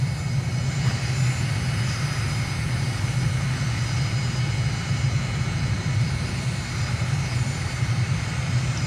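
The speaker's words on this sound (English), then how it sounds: "Taxiing to general aviation parking using taxiway Alpha" A steady, loud aircraft engine drone with a constant low rumble while an aircraft taxis to general aviation parking at Dushanbe in Microsoft Flight Simulator, unbroken for the whole stretch.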